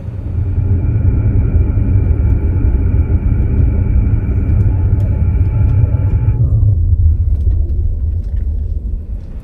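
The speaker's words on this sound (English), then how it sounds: "the air conditioning just makes a strange noise" Steady low rumbling drone with tonal hum bands from the air conditioning of a 2016 Tesla Model X P90D making a strange noise; the upper whine cuts off partway through while the low rumble continues, no talking.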